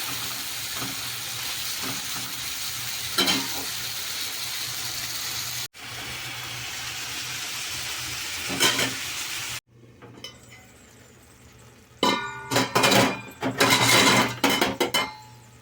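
Tomato pieces and tamarind simmer and sizzle in a pan for a tomato pickle, a steady frying hiss broken by sharp clinks of a utensil against the pan, with louder bursts of stirring near the end.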